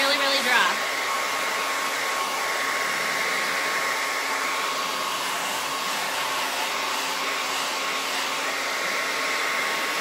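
Steady, loud whirring of a hair dryer held close as it dries chalk paste on a welcome sign, running continuously without a break.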